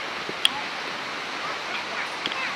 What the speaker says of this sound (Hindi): वहां पे वाटरफॉल है।